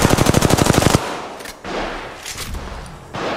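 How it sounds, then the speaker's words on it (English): Automatic weapons fire rapidly in the mobile battle royale game Apex Legends Mobile, a tight burst of evenly spaced shots up front followed by scattered louder impacts and bursts. "I am taking fire."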